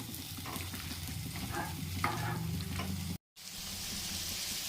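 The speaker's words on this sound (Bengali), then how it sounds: "পেঁয়াজটা লাল করে ভেজে নিচ্ছি" Onions frying and sizzling in mustard oil with occasional stirring scrapes, steady and close, broken by a brief dropout near the end.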